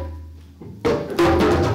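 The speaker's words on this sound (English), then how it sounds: "Now the third one is called the slap." A djembe slap stroke played by a percussionist on stage at a TEDx talk, sharp bright hits that grow louder, the strongest strikes in the final second, heard alone without talk.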